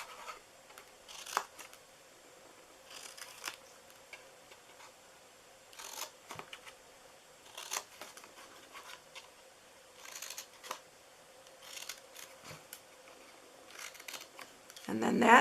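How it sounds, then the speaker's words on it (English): Scissors snip through paper for a handmade gumball machine treat box, a series of quiet, close crisp cuts spaced irregularly across the stretch, with some paper handling and rustling between them. "So we are cutting in these."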